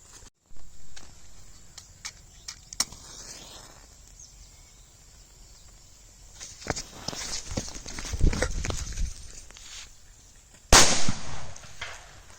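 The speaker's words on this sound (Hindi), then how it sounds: "इस बुलेट पम्प का साउंड भी बहुत बढ़िया था, बहुत तेज बजा।" A mini bullet pump firecracker fizzes and hisses, then bursts with a sharp, loud bang near the end, followed by a brief rumbling echo.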